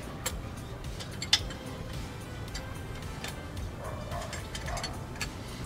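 A ratchet wrench snugs bolts on the removable rear apron of a 1974 VW Beetle, producing steady light ticking clicks under a low background hum, close and moderately quiet.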